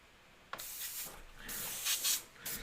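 An airbrush sprays gray paint in short bursts of soft, close hissing separated by brief pauses, with no talking.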